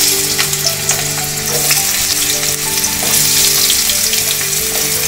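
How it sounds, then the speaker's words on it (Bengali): Potatoes fry in mustard oil in a wok, making a loud, continuous crackling sizzle close up, with no talking. "আলুগুলো ভেজে নেব।"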